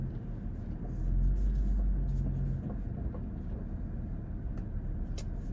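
A car maneuvering to park on a street, its engine a steady low rumble that swells briefly near the start and then holds at an even idle, close and continuous with no talk.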